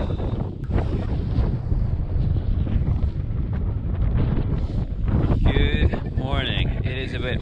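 Fierce wind blasts around a wild camp in the Snowdonia mountains, a loud continuous rush with heavy microphone buffeting and howling gusts throughout, briefly whistling near the end.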